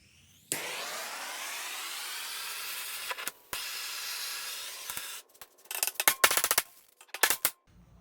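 A torch heating a stuck control arm part on a 3000GT roars with a steady hiss, cuts off briefly and relights, then sputters and pops in short bursts toward the end.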